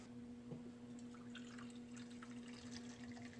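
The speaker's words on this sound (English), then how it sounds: "It has this pour lid. Just undo it a little bit and pour." Coffee trickles from a thermos with a loosened pour lid, a soft, steady stream with faint splashes and drips, quiet and close over a low electrical hum in a wood shop.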